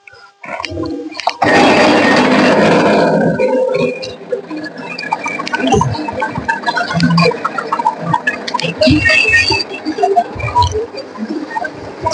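A chaff cutter machine chopping green fodder for silage on a farm, a loud continuous mechanical chopping and whirring that surges, then settles into a steady rattling churn with intermittent knocks throughout.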